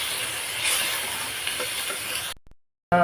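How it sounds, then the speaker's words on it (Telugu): Garam masala powder frying in a pan for prawn biryani, a soft steady sizzle with light stirring scrapes, fading out near the end. "మసాలా అంతా బాగా వేగిపోయింది"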